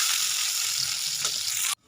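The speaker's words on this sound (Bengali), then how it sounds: "দিয়ে পেঁয়াজ ভেজে নেব" Onions frying in oil with panch phoron five-spice give a steady, close, bright sizzling hiss that runs evenly before cutting off abruptly near the end.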